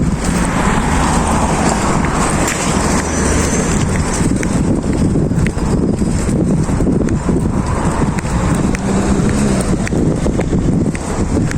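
Steady wind blowing outdoors on a hot day, a dense continuous rush of broadband noise buffeting the microphone throughout, with faint background traffic and no talk.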